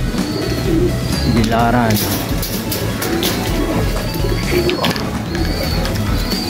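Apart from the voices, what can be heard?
racing pigeons cooing in aviary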